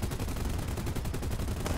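Aircraft cannon fire in War Thunder rattles off in a rapid, sustained burst of sharp repeated shots, dense and loud for the whole stretch with no talk over it.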